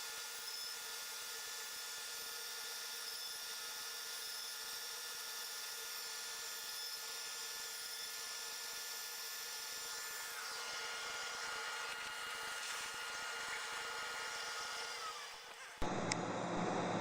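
A CNC router cuts pockets into a workpiece while a central dust collection system runs, giving a steady loud whine and roar throughout that cuts off abruptly near the end.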